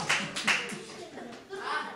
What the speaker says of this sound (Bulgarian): Пляскаме силно